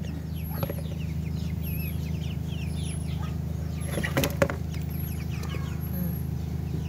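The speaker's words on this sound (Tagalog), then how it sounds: "Malapit nang ulamin ang mga manok ni Sebi." Two-week-old chickens cluck and peep softly over a steady low hum, with a brief flutter of wings in the middle.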